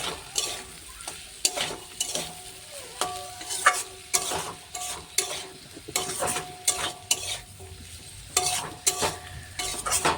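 Dried fish with chili powder and Malabar spinach seeds fries in a pan, a close sizzle broken by frequent sharp, rhythmic scrapes of a spatula stirring the mixture.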